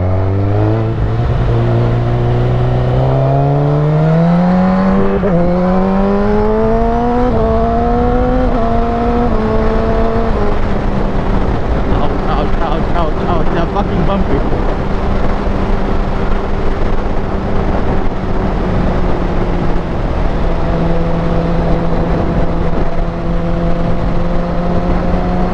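Kawasaki Ninja ZX10R sport motorcycle in traffic, its engine loud and close, revving up through rising pitches with each gear, then a drop as it downshifts and settles into a steady cruise under constant wind roar.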